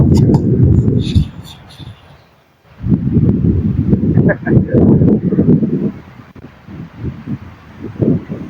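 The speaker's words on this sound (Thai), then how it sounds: "ลมแรงมาก" Strong gusts of wind buffet the microphone outdoors while a kite is flown, a loud low roar that drops away briefly and then returns, with voices talking over it.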